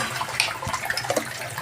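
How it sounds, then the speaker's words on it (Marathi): Tap water runs steadily at home while containers are filled during the early-morning water supply, a continuous hissing splash with a few small clinks, and no one speaking. "त्याच्यामुळे पाणी भरून ठेवावंच लागते."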